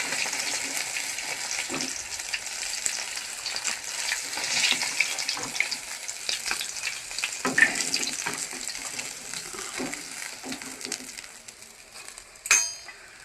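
Fish fries in oil in a home kitchen, a moderate, steady sizzle broken by occasional clinks and scraping, with a sharp knock near the end.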